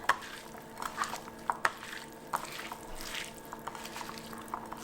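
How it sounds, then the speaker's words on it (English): A salad is tossed by hand after a dressing of fresh lemon juice and olive oil goes on, giving soft wet squishes and light clicks in an irregular close rhythm over a faint steady hum. "some fresh lemon juice, some olive oil, and then I'm going to mix this by hand"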